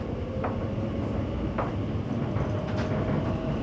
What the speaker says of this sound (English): This is the train to Abbey Wood via Canary Wharf.